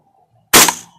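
A Kingarms MK18 airsoft gas blowback rifle, its magazine cold, fires a single sharp, loud shot up close with a brief mechanical clack from the bolt, then the sound falls away into near silence.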